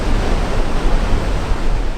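Ocean waves pound the shore of the Dingle Peninsula in County Kerry, a loud, steady, broadband roar of surf close by, with no voices.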